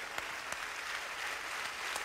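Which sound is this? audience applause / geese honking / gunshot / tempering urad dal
audience applause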